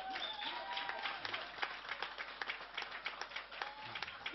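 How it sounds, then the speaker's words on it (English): Audience applause at a reggae one-mic competition show, a faint, steady patter of many hands clapping that carries on throughout, with scattered sharper claps and a background crowd. "Round of applause."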